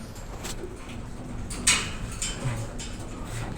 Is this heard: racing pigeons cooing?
yes